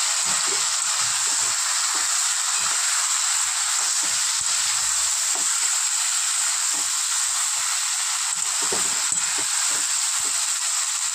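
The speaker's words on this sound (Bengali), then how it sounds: "সঙ্গে দিয়ে দেবো আদা রসুনের পেস্ট দিয়ে ভালো করে ভেজে নেব।" Onion, tomato and ginger-garlic paste fry in a pan for a cauliflower and prawn dish, making a loud, constant hissing sizzle with faint occasional stirring bumps underneath and no talking.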